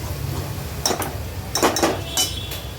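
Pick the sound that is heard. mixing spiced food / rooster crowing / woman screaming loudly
mixing spiced food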